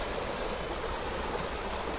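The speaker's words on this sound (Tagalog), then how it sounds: "malakas na yung agos ng tubig" Strong river current at Aldea del Fresno, the water murky toward the far end, rushing in a steady, dense broadband roar that stays constant and fairly loud throughout, with no voices.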